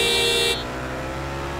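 A brief truck horn blast in Grand Theft Auto: San Andreas cuts off after half a second, leaving a steady engine rumble and hum underneath.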